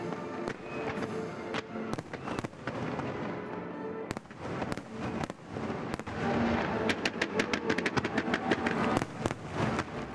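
Fireworks go off in Malta: a dense run of sharp cracks and booms, some in quick rapid-fire clusters, over a constant rumbling background, heard from a distance and growing busier toward the end.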